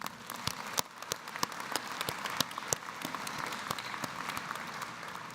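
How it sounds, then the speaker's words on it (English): An audience at a university commencement ceremony applauds, a steady wash of many hands clapping at moderate volume, sustained throughout without voices on top. "I just want to give you a round of applause for that effort."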